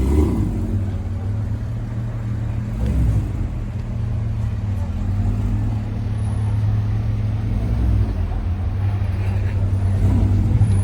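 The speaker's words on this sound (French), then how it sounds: "On a le X-Bow GT full carbone qui passe sur la croisette." A carbon-bodied KTM X-Bow GT sports car moves along the Croisette in Cannes, its engine a steady, fairly loud low drone blended with street traffic noise throughout.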